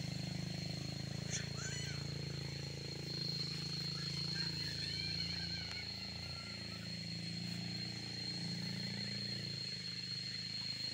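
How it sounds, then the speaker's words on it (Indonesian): Motorcycle engine droning steadily as the bike climbs a steep, winding uphill road, a constant low hum with a thin whine, close, with faint voices now and then. "Kita udah kalau nanjak gitu motornya udah gaspol"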